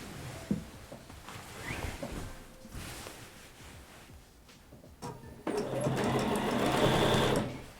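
A sewing machine stitches lines of quilting across a heavy quilt, its motor whirring in short runs with brief pauses, then settling into a loud, steady, continuous hum close by.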